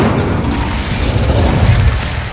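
The Incendio fire spell is cast in Hogwarts Legacy, a dense, sustained fiery roar with rumbling low bursts running steadily for a couple of seconds, loud and continuous.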